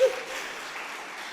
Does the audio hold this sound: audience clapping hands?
yes